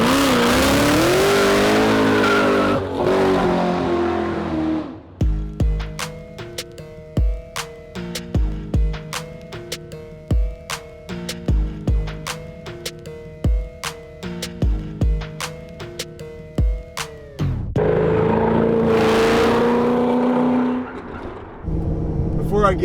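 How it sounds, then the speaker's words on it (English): An 800 whp Ford GT doing donuts and burnouts, its engine revving hard in repeated rising bursts with tire noise, loud and close, framed by sections of talk or music before and after the run. "he'll be more than glad to do some donuts and maybe some burnouts for us"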